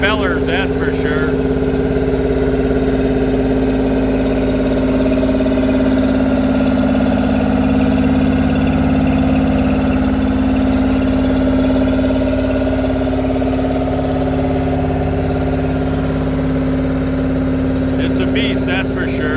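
A Steiger 2200 tractor idles in a parade with a deep, steady, loud rumble and a constant droning tone that holds unchanged throughout.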